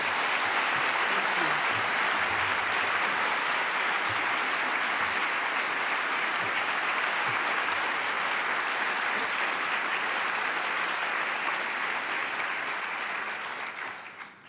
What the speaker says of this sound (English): A big applause, please, for one of the great writers of our time